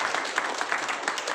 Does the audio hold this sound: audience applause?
yes